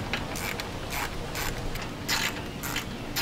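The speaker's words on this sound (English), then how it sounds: "I'm gonna take these clamps off and see if I can pull the intercooler out." Clamps being loosened and removed to pull a stock intercooler from a Ford Focus ST, with close metallic clicks and ratcheting bursts repeating in quick, irregular bursts over quiet outdoor background noise.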